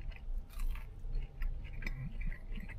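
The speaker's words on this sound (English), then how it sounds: "Time to sample the fries." Someone chews big, crunchy French fries up close, with soft, irregular crunches and mouth sounds. The sounds are quiet and there is no speech.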